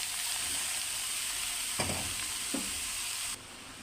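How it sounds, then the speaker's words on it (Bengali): Oil hisses steadily in a pan as chopped onion, tomato and a bay leaf fry for a cabbage dish. Two dull knocks of shredded cabbage going in stand out before the loud sizzle suddenly drops to a quieter hiss. "এখন আমি বাঁধাকপিকে ঢেলে দেব।"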